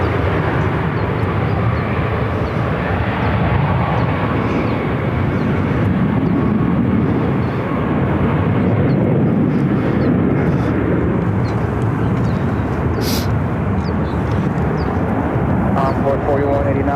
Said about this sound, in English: This American flight's coming in from San Diego. Flight 1949. An A321.